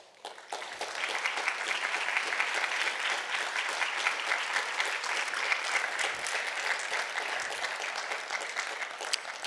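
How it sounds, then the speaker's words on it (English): Steady polite applause from a lecture audience at College of DuPage, a modest crowd clapping evenly for about nine seconds at moderate distance with no voices over it. "Polite applause."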